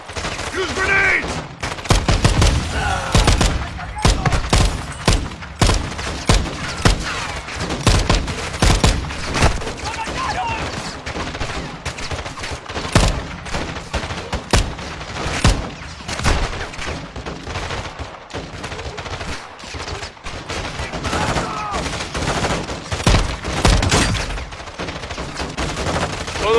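Dense gunfire and grenade blasts from the video game Call of Duty Warzone, a loud, continuous fusillade of rapid shots and booms filling the whole stretch with barely a pause.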